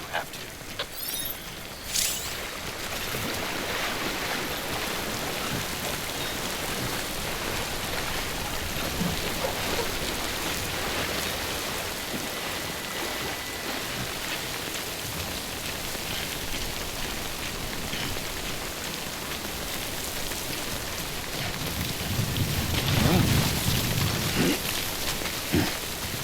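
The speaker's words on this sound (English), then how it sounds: "Timefall damages cargo containers. Don't stay out in the rain any longer than you have to." Timefall rain in Death Stranding falls as a steady, dense patter across open ground, continuous and fairly close, with a low rumble swelling near the end.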